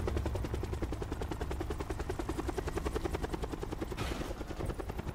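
A helicopter in the Call of Duty Blackout video game throbs with a fast, steady rotor chop that pulses evenly throughout, loud and close, with a brief burst of noise near the end.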